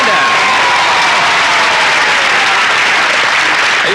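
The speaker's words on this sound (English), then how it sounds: "all those ladies out there in the audience are cheering you on" A game show studio audience applauding and cheering steadily, a loud dense wash of clapping and shouts that fills the whole stretch without a break.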